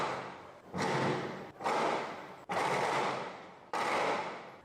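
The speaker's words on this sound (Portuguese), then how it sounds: "Pouco tempo depois, vários tiros são ouvidos." Four loud gunshots, each a sharp crack followed by a long booming echo that fades, spaced about a second apart with no talking.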